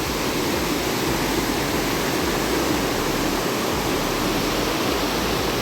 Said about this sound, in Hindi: आज पहली बार मैं इधर से पानी निकलता हुआ देख रहा हूँ।